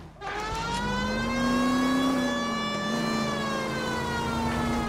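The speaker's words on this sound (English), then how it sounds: "it's our sirens." Police car sirens in the L.A. Noire video game, a loud continuous wail that rises and holds steady, sounding close and alone without talk.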